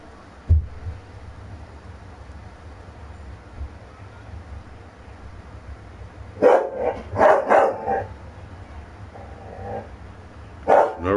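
A dog barks in a few clustered bursts, with one thump near the start and another bark toward the end, over a low background hum and no talk.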